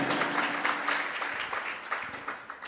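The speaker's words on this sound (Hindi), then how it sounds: "जोरदार तालियां" An audience at a devotional training camp claps together, a steady mid-level round of applause with individual hand claps popping out of the wash.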